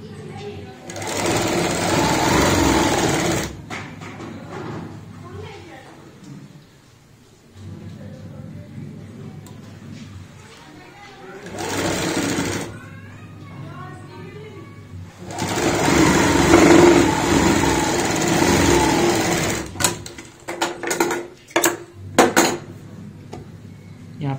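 A sewing machine stitches a cushion cover seam in loud, steady runs with pauses between them. A person talks during the quiet gaps.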